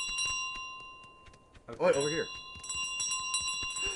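A bicycle bell rings a few times in Untitled Goose Game amid scattered game sounds, and a person speaks briefly in the middle.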